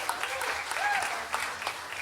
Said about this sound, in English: can we clap it up for your bartenders upstairs really quick